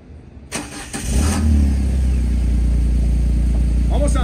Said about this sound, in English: Almost sounds like a diesel, doesn't it?